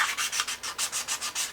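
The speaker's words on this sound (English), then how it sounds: "we're going to take our rough sanding disc and just sand on the edge" A rough sanding disc worked against the paper-covered edge of a wooden stand, giving close, even back-and-forth scratchy rubbing strokes in a steady rhythm of about six per second, with no voices.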